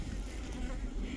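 Honey bees buzz at an open hive, a dense continuous drone that is soft and close, with no voices over it.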